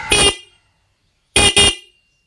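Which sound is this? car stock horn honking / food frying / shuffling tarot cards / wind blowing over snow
car stock horn honking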